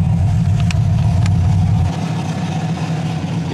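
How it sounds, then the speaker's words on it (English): A modified Ford Mustang idles at an intersection, its low, steady engine rumble close by; the deep tone drops noticeably near the end as the revs settle. "Da drüben ist zum Beispiel jetzt einfach ein anderer Mustang an der Kreuzung, der auch genau umgebaut ist."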